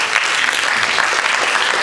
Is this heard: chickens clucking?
no